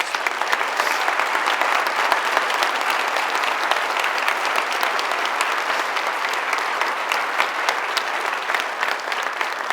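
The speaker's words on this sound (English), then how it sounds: "I'd like to ask you to give them a big round of applause" At a university State of Our University address, a large audience gives a dense, sustained round of applause for honorees. The clapping holds steady and loud for nearly ten seconds with no speech over it.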